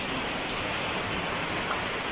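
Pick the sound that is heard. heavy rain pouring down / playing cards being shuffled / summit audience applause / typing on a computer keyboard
heavy rain pouring down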